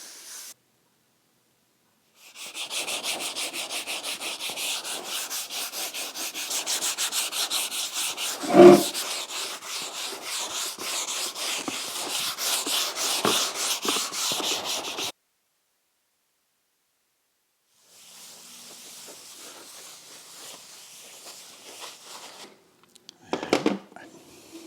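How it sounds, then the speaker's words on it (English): Hand sanding of body filler on Harley Heritage Softail fenders with 320 grit paper: steady rasping strokes run close and fairly loud for about twelve seconds, pause, then resume more softly, with a sharp knock partway through. "the whole lot now, including the filler, needs a gentle rub down with a 320 grit just to give it a key for the primer"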